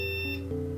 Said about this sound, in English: we got a beep code this time